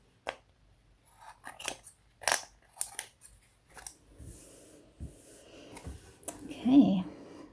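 Scissors snip weaving threads close up on a loom, a handful of sharp, separate cuts spaced unevenly, with soft rustling and handling noises between them.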